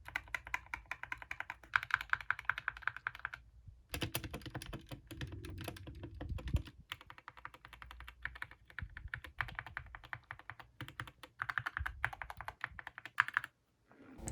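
Continuous clicky typing on an Epomaker Skyloong SK61 60% mechanical keyboard, close up, with rapid uneven keystrokes and a couple of short pauses.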